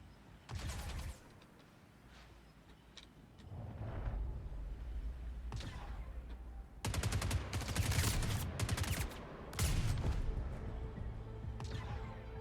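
Bursts of gunfire in the Star Citizen video game, several rapid volleys of shots at mid distance over a steady rumble of game ambience, louder clusters arriving in the second half.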